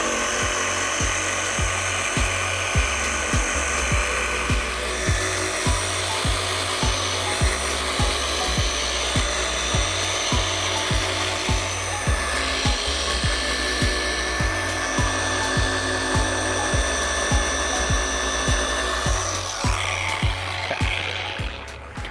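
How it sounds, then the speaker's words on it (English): Machine polisher at speed setting 3 working compound into car paint, a continuous close whirring hum with periodic rhythmic bumps as the pad sweeps back and forth. "begin polishing"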